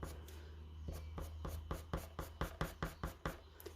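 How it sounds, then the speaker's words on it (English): Coloured pencil hatching on paper makes quick, evenly spaced scratchy strokes, close and faint, settling into a brisk regular rhythm with no voices. "using coloured pencil and the hatching technique, this is the sort of effect you're going to get"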